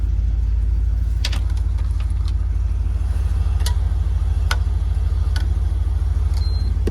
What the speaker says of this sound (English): She's ticking away, really good RPMs.